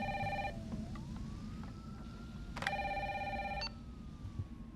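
In the video game Resident Evil 3, a telephone rings in two electronic trilling bursts with a pause between them, moderately loud over low background noise.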